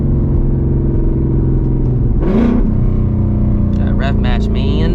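A Ford S650 Mustang GT rumbles steadily from inside the cabin, with a quick rev-matching blip midway and further brief engine bursts near the end, someone talking over it.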